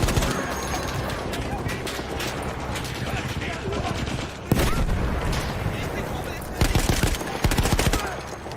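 Machine gun fire in the World War I shooter game Battlefield 1, dense rapid bursts and scattered shots amid battle noise, loud and continuous with sharper volleys near the end.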